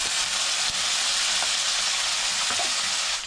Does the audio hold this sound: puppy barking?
no